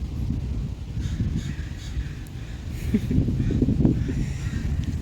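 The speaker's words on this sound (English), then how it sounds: "Birds everywhere!" Crows caw repeatedly outdoors in a field, moderately distant, over a constant low rumble of wind and handling noise, with the calls loudest near the middle and end.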